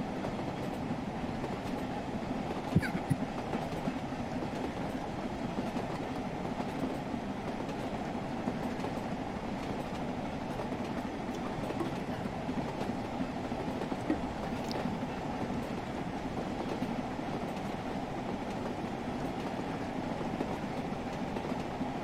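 An LMS 8F steam locomotive hauls a relief carriage train toward Crewe at about 50 mph, heard from aboard as a steady, loud rolling rumble with continuous rail noise and faint clickety-clack throughout, no talking.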